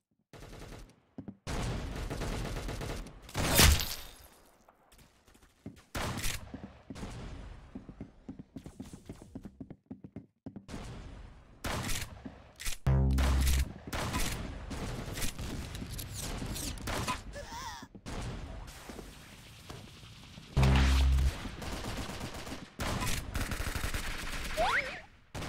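Rapid bursts of gunfire in the Roblox shooter game Arsenal, loud repeated shots and fusillades broken by short gaps, with game effects mixed in across the clip.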